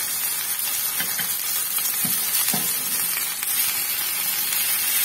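Masala-coated fish frying on a flat dosa griddle gives a steady close sizzle and crackle throughout, with a few soft scraping stirs partway through and no voices.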